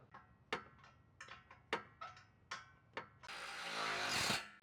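Skid plate bolts being tightened on a Toyota 4Runner, a series of sharp ratcheting clicks and metallic knocks, followed by a louder sustained burst of an impact or power tool whirring.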